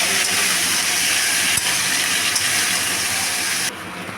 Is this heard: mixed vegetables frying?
yes